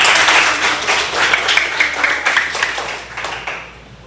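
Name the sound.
class applause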